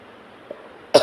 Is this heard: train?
no